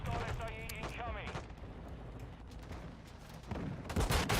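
Gunfire in a Call of Duty mod match: sharp cracking shots and booms, one burst early and a heavier cluster at the end, with a voice talking underneath.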